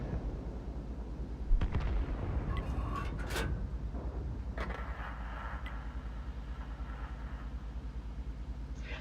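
In World of Tanks, a tank cannon fires one sharp boom over a continuous low engine rumble, followed by a few fainter mechanical clanks.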